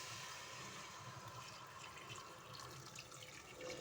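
Tap water runs steadily into a cooking pot for boiling, while making chicken kabsa, a soft continuous pouring and splashing at low volume with no talking.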